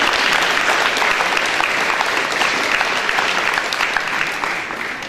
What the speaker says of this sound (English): So let's give Carly a big round of applause.